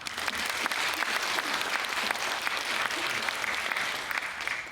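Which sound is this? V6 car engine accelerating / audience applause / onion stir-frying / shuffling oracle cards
audience applause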